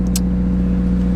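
Subaru WRX engine idling steadily while warming up, a constant low rumble heard close from inside the car, with a brief faint higher click near the start.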